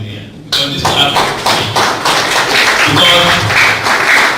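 Audience clapping at a media chat with an education commissioner, a loud, steady burst of hand claps that starts abruptly and carries on throughout.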